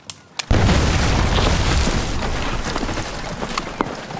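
Grenade explosion in a military action scene, a sudden loud boom after a few faint clicks, followed by a long rumbling, crackling decay.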